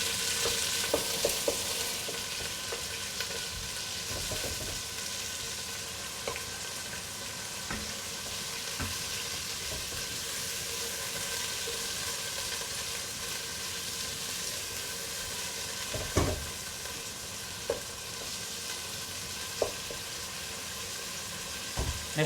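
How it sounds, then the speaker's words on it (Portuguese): Meat pieces frying and caramelizing in a pot for feijoada, giving a steady close hiss of fat that continues for the whole stretch, broken by occasional faint clicks and small pops. "Vamos deixá-las fritar bem,"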